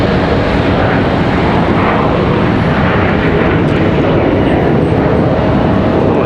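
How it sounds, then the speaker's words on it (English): Embraer ERJ regional jet departing Charlotte Douglas airport, a loud, steady broadband jet roar that holds close and strong throughout without fading. "Little ERJ departure."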